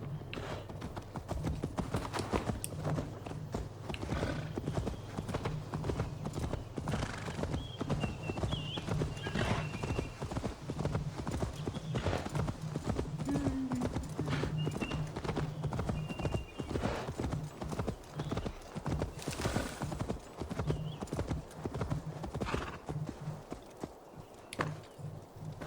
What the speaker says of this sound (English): Horsey.